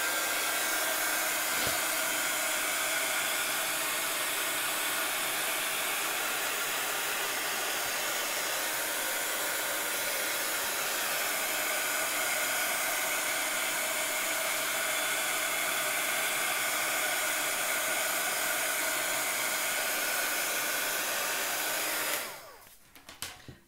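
A hair dryer blows steadily and loudly for over twenty seconds, drying paint on a mixed media canvas, then cuts off abruptly near the end.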